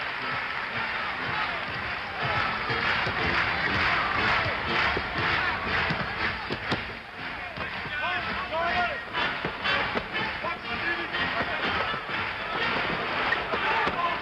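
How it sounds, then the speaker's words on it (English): Arena crowd at a 1976 NBA Finals basketball game, Boston Celtics at Phoenix Suns, applauding a rookie as he checks in, a dense roar of clapping and cheering that stays loud and steady throughout. "there's a lot of hot hands applauding him"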